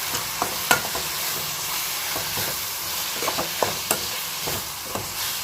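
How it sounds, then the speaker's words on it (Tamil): Tomatoes, tamarind and fresh curry leaves sauté in a hot pan for tomato chutney, giving a steady close sizzle punctuated by repeated scraping strokes of a stirring spoon, with no talking. "அதையும் சேர்த்து நல்லா வதக்கி விட்டுக்கணும்"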